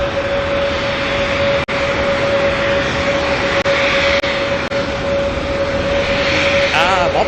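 An Airbus A321neo in all-black Star Alliance livery passes at Auckland Airport with a loud, sustained engine roar carrying a steady whine, and a few brief clicks cut through.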